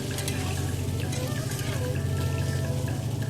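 Water poured onto ground spices and potatoes in a hot pan sets off a steady, close sizzle and crackle that holds at an even level throughout, with no talking.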